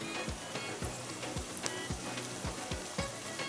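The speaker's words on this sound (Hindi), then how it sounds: "अगर आप यहाँ पर फ्राई कर रहे हैं इसको प्याज को" Onions frying in a pan, with broadband sizzle crackling steadily throughout and a few soft stirring scrapes or taps recurring at regular intervals, close and moderately loud.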